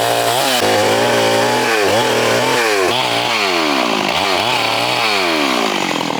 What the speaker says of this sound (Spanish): Casi pareciera como si la madera fuera un pedazo de mantequilla, como le entra la motosierra.